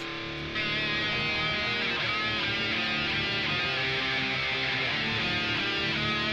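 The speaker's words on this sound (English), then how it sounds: "Then I've done another 2 guitar tracks." Another pair of recorded distorted electric guitar tracks for a metal song plays back, a thick, continuous wall of sustained chords at steady volume after a quieter opening instant.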